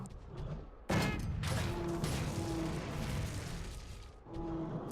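Bowgun shots in the video game Monster Hunter 3 Ultimate: a burst of loud, sharp blasts starts partway in and rolls on as dense repeated firing, pausing briefly before another shot near the end.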